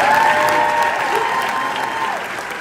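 A theatre audience at MJ: The Musical breaks into sustained applause and cheering, a dense, loud wash of clapping that holds steady throughout, with a held musical tone ringing underneath.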